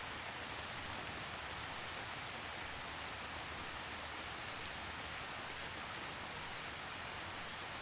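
Steady, dense rainfall in a forest, a continuous close hiss of drops on leaves and ground with no thunder or voices, holding an even level throughout.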